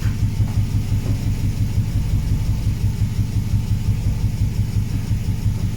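A Nissan Micra K10 with a high-compression CG13 engine on individual throttle bodies idles steadily, a close, loud, even low rumble with a slightly lumpy pulse and no talking.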